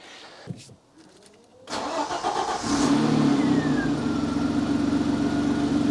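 A Citroen XM 3.0 24V engine cranks briefly, catches and starts, then settles into a loud, steady running rumble.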